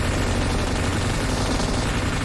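Constant, dense gunfire from M24 rifles in the mobile shooter PUBG Mobile, a heavy, unbroken barrage that fills the whole stretch at an even loudness with no speech.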